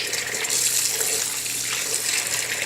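Hot water runs from a tap to dilute bleach for laundry, a steady, even rush of flowing water throughout, close and fairly loud with no pauses.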